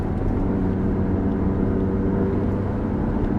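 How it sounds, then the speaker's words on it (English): A mid-engine Italian sports car with a manual gearbox drones steadily from behind the cabin, a constant low mechanical rumble heard from inside while driving. "You can kind of hear the mechanics of the engine behind your ear here"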